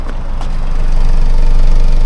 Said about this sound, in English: let's have a sound or listen to the engine.